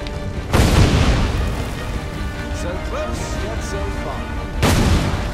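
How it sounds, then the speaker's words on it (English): Explosions in Assassin's Creed III, two heavy booming blasts several seconds apart, loud and near, with a rumbling din and faint higher sounds between them. "What's with all the explosions?"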